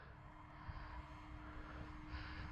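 Electric motor and propeller of an FMS ASW 17 RC glider under throttle, a steady whirring drone with a faint tonal hum, heard from a distance at moderate level.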